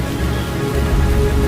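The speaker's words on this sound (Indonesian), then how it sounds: "Jangan-jangan di luar hujan, Rul." Rain falling outside a home, a steady, dense hiss and patter heard close and continuous, with a low rumble beneath and no voices.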